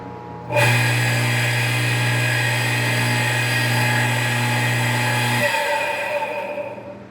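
An electric water pump motor, its blades spun by hand to help it start, kicks in abruptly with a loud, steady whirring hum close by. It runs evenly for about five seconds, then its low drone drops away and the sound fades.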